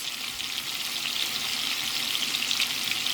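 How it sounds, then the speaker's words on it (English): Beef pieces browning in a pan for stroganoff give off a steady, dense sizzle that holds even and continuous throughout, with no talking. "kind of stir them around a little bit until they appear to be browned on all sides"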